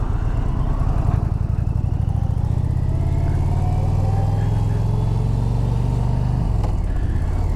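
A truck rumbles close behind a car on a road, its low engine drone steady and loud throughout, with a brief shift in tone near the end.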